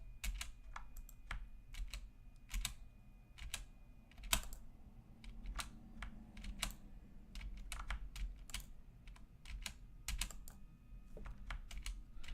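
Rapid, irregular clacking of computer keyboard keys, close and fairly quiet, with bursts of keystrokes running steadily throughout with no voices, as someone presses buttons to switch a PC game into windowed mode.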